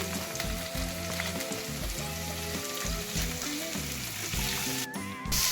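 Green chillies, garlic, coriander leaves and cashews fry in hot oil in a pan, a loud continuous sizzle with steady background music and a brief stir near the end.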